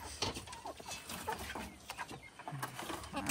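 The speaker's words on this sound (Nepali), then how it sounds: "आमाको कुखुरा छ यहाँ चाहिँ" Chickens clucking at a village house in the hills, soft scattered clucks close by amid faint background noise and voices.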